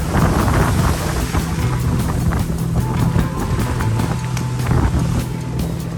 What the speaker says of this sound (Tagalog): lumalakas na talaga yung hangin at uh, pabugso-bugso na talaga yung ulan